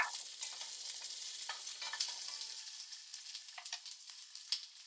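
Sliced carrots and other vegetables frying and being stirred in a hot pan, a steady close sizzle with scraping stir noises throughout and no talking.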